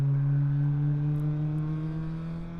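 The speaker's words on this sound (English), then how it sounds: "You know they're close where you can hear them make gear changes." A race car on the Harris Hill Raceway circuit during a ChampCar endurance race, its steady engine drone holding a sustained pitch as it climbs the hill, moderately close and heard alone.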